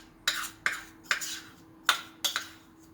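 Egg yolk being mixed in a bowl for a chocolate soufflé, five distinct clinking strokes of a utensil against the bowl at uneven intervals, close and clear with quiet between.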